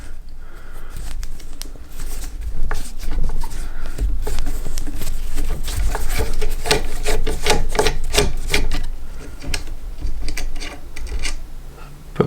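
Bolts are unscrewed to remove a rifle stock and trigger guard, close scraping and rasping of metal with a dense run of small clicks and ratchet-like ticks.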